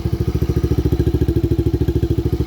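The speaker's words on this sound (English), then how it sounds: "You want to start the bike up, make sure you don't hear any ticking sounds." A 2019 Yamaha Raptor 90 ATV engine idles steadily close by, its rapid even putter chugging along without any other sound.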